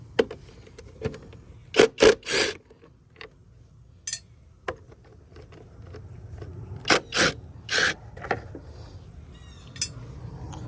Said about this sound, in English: we will be using a 10mm socket for the bolts on the cover